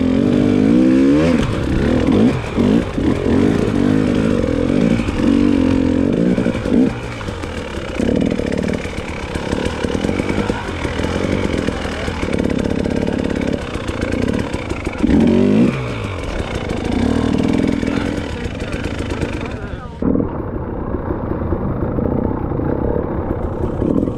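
Motorcycle on a Shinko 525 tyre climbing over rocks in a riverbed, engine loud and close, revving and labouring steadily with rough clattering before cutting off near the end.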